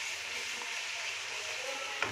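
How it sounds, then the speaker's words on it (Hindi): Sliced capsicum and cabbage fry in a pan for chicken fried rice, giving a steady, even sizzle with a faint scrape near the end and no talking. "इसको मैं तकरीबन 1 मिनट फ्राई करूंगी"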